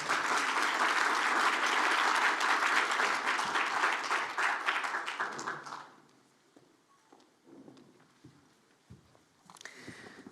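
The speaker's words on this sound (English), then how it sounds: "Now you can clap." A forum audience at a local art event claps loudly for about six seconds, the dense applause fading out abruptly and leaving a quiet room with scattered faint rustles and a brief bit of noise at the end.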